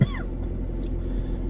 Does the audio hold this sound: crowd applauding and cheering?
no